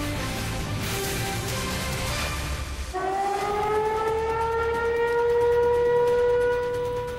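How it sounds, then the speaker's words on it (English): Tornado sirens wail in the distance across Middle Tennessee at night, a long rising and falling tone that shifts pitch partway through and keeps sounding steadily. "Tornado sirens sounding off all over Middle Tennessee tonight."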